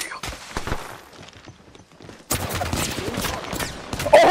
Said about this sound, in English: Oh, I just sniped him across the map.